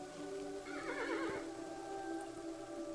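A horse in the game Kingdom Two Crowns gives a single clear, fairly quiet whinny lasting under a second, set against a soft ambient backdrop with no talking.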